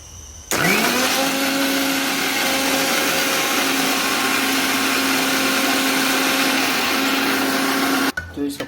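A mixer grinder blends a mixture with milk and salt, switching on with a loud, steady whirring drone that runs unbroken for about eight seconds, then cuts off abruptly.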